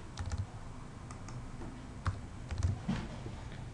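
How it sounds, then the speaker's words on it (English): Typing on a computer keyboard while entering a supply grill size in ductwork design software: a few scattered, quiet key clicks, close and soft, with no talking. "I can then type the grill size in"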